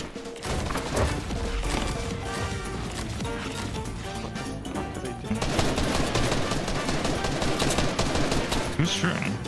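Rapid gunfire from a Fortnite match crackles almost nonstop for the whole stretch, dense overlapping shots with a heavier burst in the second half, with players talking over it.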